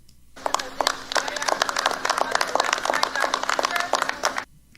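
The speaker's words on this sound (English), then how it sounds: "they're clapping" Reporters clapping in a room, a dense burst of many hands applauding for about four seconds, starting and stopping abruptly, with a faint steady hum underneath.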